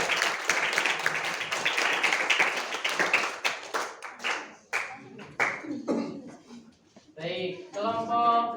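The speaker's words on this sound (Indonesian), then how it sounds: "Beri tepuk tangan." A classroom of students clapping in applause, dense and lively at first, then thinning into scattered claps before voices take over.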